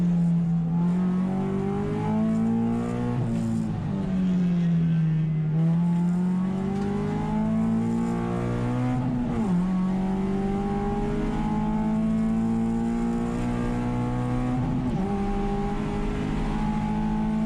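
A T3 BMW race car in a racing video game revs hard in a loud, continuous engine drone, its pitch climbing through the gears and dropping sharply on a double-clutch downshift from fourth to second, with no talk.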